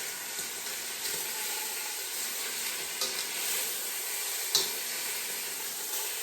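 Steady, dense sizzling of pork for al pastor frying in a hot pan, with a few soft clicks and stirs on top; no voices.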